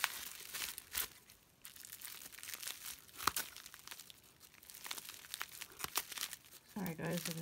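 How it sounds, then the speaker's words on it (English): Close, busy crinkling and rustling of plastic wrapping being torn and pulled off a package, continuous with sharp crackles throughout, and a voice speaking faintly under it near the end. "Sorry if there's a lot of plasticky noise."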